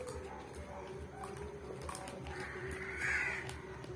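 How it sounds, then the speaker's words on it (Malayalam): A crow caws outdoors over steady background hum, with a voice speaking nearby and a brief brighter call rising near the end. "കാക്ക"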